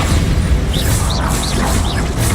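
Bombarda spell explosion in Hogwarts Legacy, a loud, rumbling blast with heavy low boom and crackling debris, filling the whole moment with a few brief whooshing spell sounds above it.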